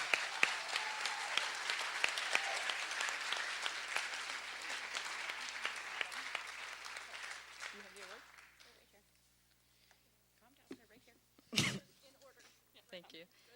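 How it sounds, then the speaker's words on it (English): An awards-event audience gives a round of applause for a provincial championship team, dense clapping that carries at moderate distance for about eight seconds, then thins to scattered claps and quiet room noise, with one brief louder burst late on. "I think they deserve a round of applause"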